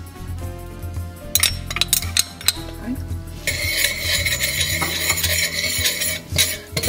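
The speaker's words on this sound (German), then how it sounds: "Das muss auch nicht lange brutzeln, nur ein bisschen" Hot oil with chili flakes crackles and sizzles in a pan, punctuated by clinks of a utensil stirring against metal.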